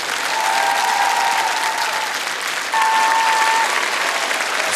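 A studio audience at a comedy show bursts into loud, sustained applause, a dense wash of clapping with an electronic tone sounding twice over it.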